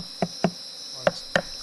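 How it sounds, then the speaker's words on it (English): A metal hive tool taps the wooden top bars of a beehive five times in sharp, close, hollow knocks at uneven intervals, over a steady high insect-like whine. "Use your hive tool to tap the top bars."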